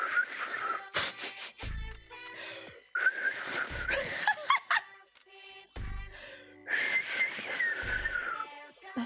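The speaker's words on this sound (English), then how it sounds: "That's just a weak-ass whistle." Someone tries to whistle, producing three breathy, wavering attempts with thin tones that break and wobble, separated by short silences and a few sharp breaths.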